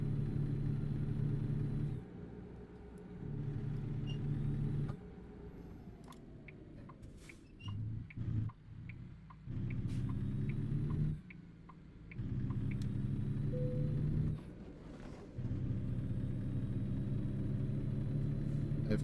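A truck engine in American Truck Simulator picking up speed, a low droning rumble that rises and drops through gear changes with brief gaps, steady and moderately close.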